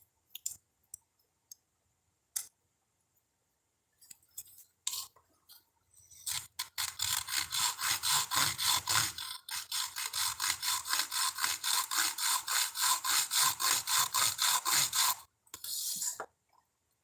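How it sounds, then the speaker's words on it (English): A blade saws through material on a small boat, a dense, steady back-and-forth rasp lasting around nine seconds after a few scattered clicks and knocks, then a brief final burst of cutting. "now I'm fixing to cut this loose from here"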